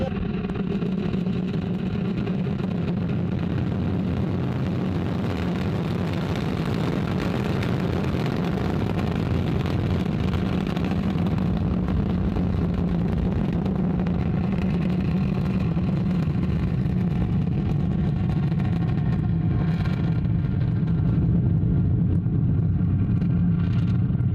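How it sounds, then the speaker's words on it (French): An Ariane 5 rocket lifts off in French Guiana with a deep, continuous roar that rumbles steadily for over twenty seconds without pause. "Ariane 5 beginning her mission, lifting off perfectly and beautifully from the ground here in French Guiana"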